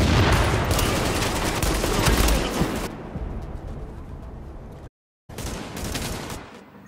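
Gunfire in the video game Tom Clancy's The Division comes as dense, loud bursts of automatic shooting, then a quieter stretch of sustained fire, a brief cut to silence and another burst.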